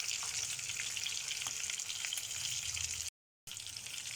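Tuna frying in butter in a pan, a steady close crackling sizzle that runs throughout with a brief dropout near the end, no voices.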